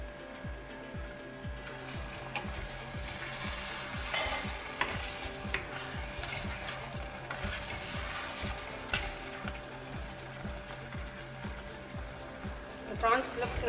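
Prawn masala simmers in a pan, a low sizzle under repeated scraping strokes of a spoon stirring, close and fairly quiet with a voice talking over it.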